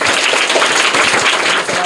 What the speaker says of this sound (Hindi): करेक्ट आंसर है, जोरदार तालियां